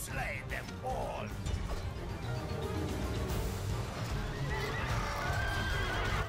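Cavalry horses in the Rome: Total War Barbarian Invasion strategy game whinny and neigh over a dense rumble of hooves and battle noise, with faint talk mixed in.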